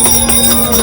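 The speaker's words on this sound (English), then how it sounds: "This bell is a wonderful symbol of the spirit of Christmas." A bell rings steadily with a clear, sustained metallic tone, close and fairly loud, at a Polar Express Christmas train event where the first gift of Christmas, a sleigh bell, is handed out.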